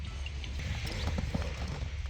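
Horse hooves clip-clop at close range, a quick irregular series of soft knocks over a low rumbling background.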